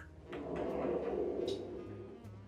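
A door in a house opens onto a laundry room, giving a soft, brief sliding scrape with a light rattle, heard quietly and close over a low room hum, with no talk.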